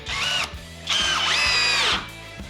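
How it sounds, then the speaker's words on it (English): Budget 20V brushless drill on high speed driving a standard drywall screw with a Phillips bit: a close, loud whine in two bursts, pitch rising and dipping under load, stopping abruptly. "So let's try the Phillips bit with a standard drywall screw now."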